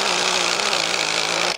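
A power drill drives screws into a single-hung window frame, running as a steady, loud whine that holds for over a second and a half before cutting off abruptly.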